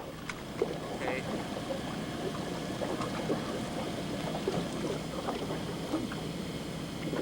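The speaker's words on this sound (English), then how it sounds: "Okay, we got a ship rumble in the background." A boat's engines rumble in the background on the water, a low steady drone with faint knocks and clatter, mid-distance and even throughout.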